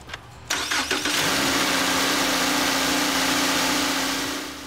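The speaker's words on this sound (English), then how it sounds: "go ahead and start the engine up, and make sure everything runs as normal." Subaru Crosstrek with the 2.0-liter FB20 engine cranking briefly and firing up, then settling into a steady, loud close-up idle after a serpentine belt replacement, with no talking.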